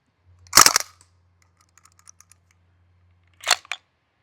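A North East Sten gas blowback airsoft gun fires close by: a short rapid burst of snappy cracks, then faint clicks, then another brief two-shot burst, with a low gas hiss underneath.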